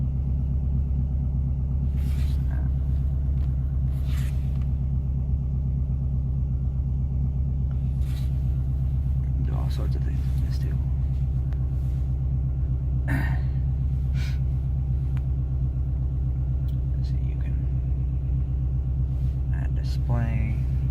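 A dirty car idles steadily as its engine drops out of high idle, a constant low rumble running throughout while a person talks intermittently over it.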